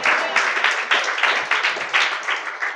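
A church congregation claps during a New Year sermon, a dense, steady burst of many hands filling the room with rhythmic pulses, loud and close, with no talk over it.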